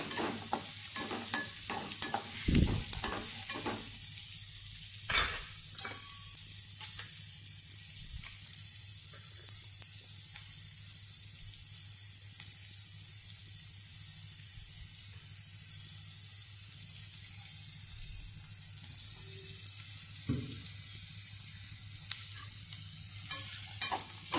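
Flattened rice (avalakki) roasting in a pan at home, a soft continuous sizzle with scattered scraping clicks of a spoon stirring, a few sharper knocks against the pan.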